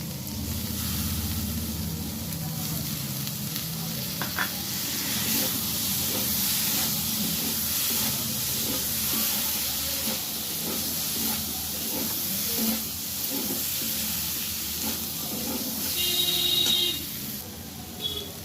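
Soaked mung dal added to a hot pan with yardlong beans, giving a steady hissing sizzle with faint clinks and scraping, a brief higher whine near the end, and no speech.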